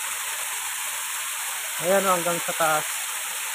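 Enchanted Falls, a steady waterfall in Sultan Kudarat, gives a constant broadband rush of falling water throughout, with a person speaking briefly over it partway through.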